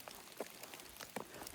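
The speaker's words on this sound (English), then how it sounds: "It's rainy." Rain on a foggy mountain hiking trail near Blood Mountain: a steady soft patter with scattered nearer drops tapping at irregular intervals, fairly quiet.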